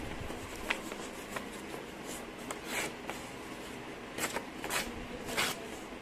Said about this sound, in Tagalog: Ilalagay natin dito ang ating lakas ang ating enerhiya sa pagtatanggal natin sa mga gilid ng ating papel